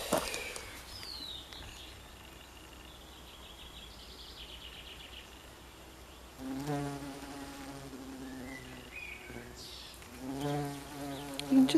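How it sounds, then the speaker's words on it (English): Bumblebee buzzing low among oxeye daisies, a soft steady drone that swells closer and louder in two passes, with faint insect and bird sounds behind. "Oh, this is a lovely bumblebee."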